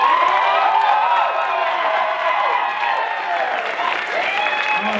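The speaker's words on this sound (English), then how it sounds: "I want to hear everybody give your number 10 applause." Loud, steady applause and cheering from a game show audience, a dense wash of clapping with shouting voices mixed in throughout.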